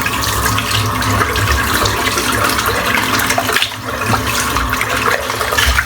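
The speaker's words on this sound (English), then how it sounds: "Rinse the soap out." Warm tap water runs steadily into a bathroom sink as shaving soap is rinsed out, a loud continuous rushing splash close by with a brief dip in flow partway through.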